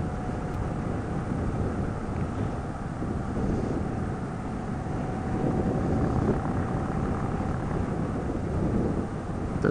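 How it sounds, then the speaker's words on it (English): Steady, loud wind roar buffets the microphone while riding a 2017 Indian Chief Dark Horse motorcycle, a continuous broadband rush with no breaks and no voices. "Wind."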